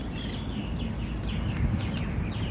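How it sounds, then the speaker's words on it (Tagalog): A flock of many birds feeding on anahaw palm fruit outdoors, with busy overlapping chirps and calls over a steady background hum. "Ang daming ibon. Kinakain yung bunga ng anahaw."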